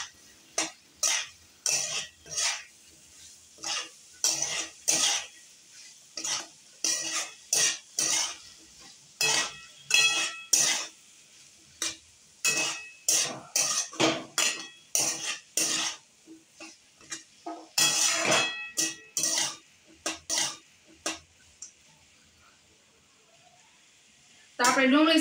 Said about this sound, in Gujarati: હવે મસાલા સાથે આપણે ડુંગળીને મિક્સ કરી લેશું.